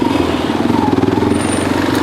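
A motorcycle with close to 94,000 km on it, about six years old, runs at a steady idle close by, a loud continuous engine throb with no talking.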